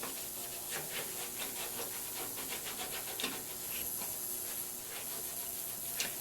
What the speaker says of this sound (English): it's just going to be down to a sponge that has like the scrubby thing on the other side of it